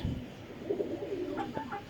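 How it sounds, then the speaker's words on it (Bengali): Pigeons kept on a rooftop coo softly in a few short low calls, close by but quiet, over faint background hiss. "এক জোড়া কবুতর"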